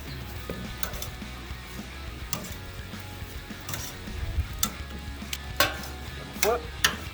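Pitas charring on a hot grill, a soft continuous sizzle with scattered sharp clicks and scrapes of handling as they are turned, fairly close and moderate in level.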